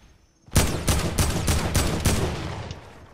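Gunfire in Fortnite, a rapid burst of about six sharp close shots at a fairly even rhythm, then a decaying tail, with no talk over it.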